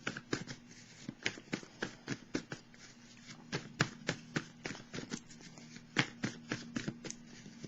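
Tarot cards are shuffled by hand in quick, soft riffling bursts, a rapid irregular rhythm of papery flicks and taps heard up close and fairly quiet, with a low steady hum beneath.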